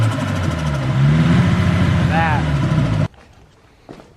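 A Nissan S15 car engine idles with a steady low rumble while someone talks over it; the sound cuts off abruptly, leaving near quiet.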